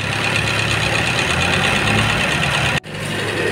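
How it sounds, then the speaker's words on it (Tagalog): An engine idles steadily in a Toyota Corolla small body while the AC compressor runs after the pressure switch has been jumped. The mechanical hum is loud and close, with a brief cut near the end before it carries on. "Ayan na, gumagana na yung kanyang compressor."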